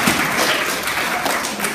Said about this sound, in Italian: Un applauso a Leonardo.